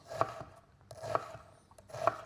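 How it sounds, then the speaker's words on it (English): A knife dices onions on a chopping board in three crisp, evenly spaced bursts of rapid cuts, close and clear with no talking. "again just going up and down with our knife, and we're getting"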